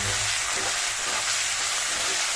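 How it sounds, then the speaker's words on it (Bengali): Dal is poured over spices frying in a pan, making a loud, dense, continuous sizzle and hiss that holds steady throughout, with no voices. "ভালো করে এটা মশলাটাকে একটু ফ্রাই করে নিয়ে আমি ডালটা ঢেলে দেব"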